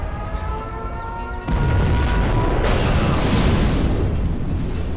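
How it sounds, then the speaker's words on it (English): Nuclear missile launch and detonation in Command & Conquer Generals Zero Hour: a rising tonal launch whine gives way to a heavy, rumbling roar, then a deeper sustained blast and crackling boom filling the rest. "Launching nuclear missile."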